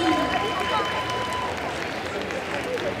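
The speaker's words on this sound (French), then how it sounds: "On peut l'applaudir." Audience at a Japan-themed cosplay contest applauds a jury member, a thick steady roar of clapping and crowd noise in a large hall, with a faint whistle near the start.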